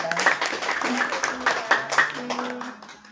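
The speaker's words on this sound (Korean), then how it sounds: "오늘 강연해주신 우리 박사님께 다시 한번 감사의 박수 부탁드립니다." An audience at a mini-concert lecture claps in thanks for the doctor who spoke, a short burst of scattered applause heard under a host's ongoing talk over a microphone.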